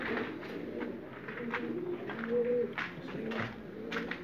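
Pigeons cooing while being held in the hand, repeated low soft coos in an uneven rhythm, close by, with faint handling noises between them.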